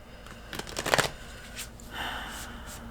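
A deck of tarot cards is shuffled close by in a few quick riffling bursts, followed by softer handling sounds in a quiet room.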